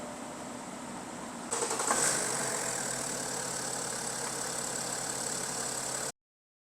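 A BMW 7 Series engine idles steadily to warm its oil, giving a close, even mechanical hum with a brief rise as it settles, then cutting off abruptly.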